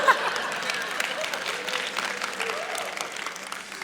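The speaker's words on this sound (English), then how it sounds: "If you guys are going to applaud, just like jump in, attack it." Audience at a Skepticon 5 talk bursting into applause, a steady wash of clapping from a large room that holds for a few seconds before easing slightly.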